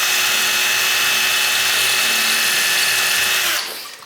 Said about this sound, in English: I'll try it with the drill bit